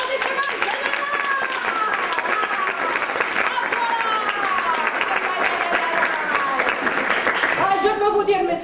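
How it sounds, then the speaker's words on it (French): An audience at a theatre evening claps in a sustained dense wash, with raised voices and shouts riding over the clapping throughout, ending in a brief lull. "Applaudissements."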